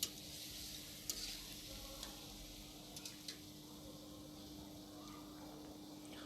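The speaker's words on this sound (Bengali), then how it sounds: "সাথে আমরা মাংস একটু নেড়ে ভেজে নিব হালকাভাবে" Duck meat stirred and fried in a pan, a low steady sizzle with a few sharp clicks and scrapes of the spoon against the pan, quiet and close, with no talking.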